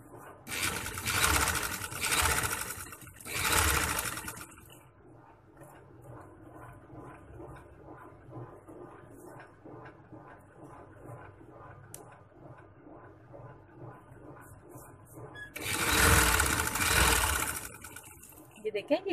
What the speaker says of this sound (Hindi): इसके किनारे पे फिर हम सिलाई लगा देंगे।